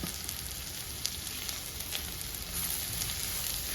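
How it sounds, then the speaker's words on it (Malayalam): Onions frying in a pan for a Kerala-style soya roast give a steady, even sizzle close by, with a few faint clicks and no talking. "നമ്മുടെ സവോള നല്ല രീതിയിൽ വഴണ്ട് വന്നിട്ടുണ്ട്"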